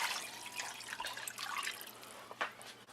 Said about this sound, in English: So next I'm gonna put water into the pot. I'm gonna add water to actually cover the meat.